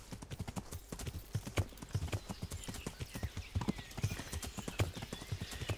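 Horse hooves clip-clop steadily in the medieval game Kingdom Come: Deliverance, a brisk, close rhythm of hoofbeats on ground throughout, with a soft whinny mixed in under quiet game ambience.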